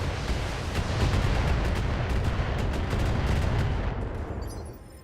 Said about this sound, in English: give an LRM volley to that lovely Wolverine